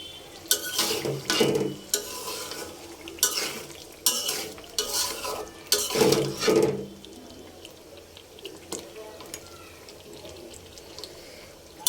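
Domestic duck meat being sautéed in a pan: a spoon scrapes and stirs in repeated bursts over a soft sizzle, with clinks against the metal, then the stirring stops and only quiet frying remains.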